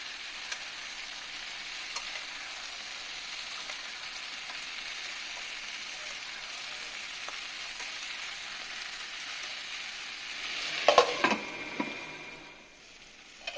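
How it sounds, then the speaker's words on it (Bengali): Fried cauliflower and potato with spices stirred in a pan over the heat, a soft steady sizzle with a few louder spatula scrapes and clinks near the end, no talking. "আমি ভাজা ফুলকপি আলুটা দিয়ে দিলাম এটাকে একটু ভালো করে মশলার সঙ্গে মিশিয়ে দিচ্ছি।"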